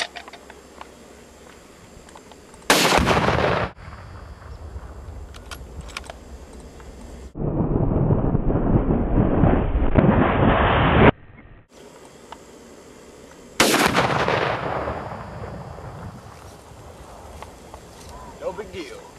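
Gunshots at a star-shaped shooting target ring out as three loud, sharp reports spaced several seconds apart, each with a decaying tail, alongside a longer burst of noisy rumble, with voices talking between them.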